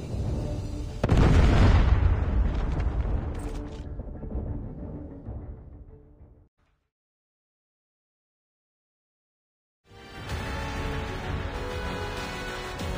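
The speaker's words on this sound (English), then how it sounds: "Friendly predator missile inbound. Predator missile inbound." A predator missile explosion in Call of Duty Mobile, one loud booming blast with a long rumbling decay, then silence before game sounds return.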